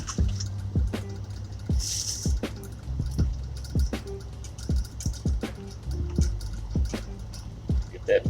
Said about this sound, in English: I'm going to add the rice and give it a little stir.